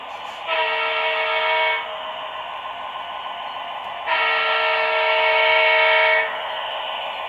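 A model Rock Island passenger train on a layout sounds a sustained horn twice over a steady rumble as it passes nearby, loud and without voices.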